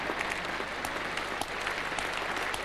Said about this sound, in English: And applause for the 100 up for Australia.